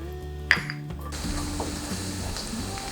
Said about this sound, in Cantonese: 先將啲蒜片爆香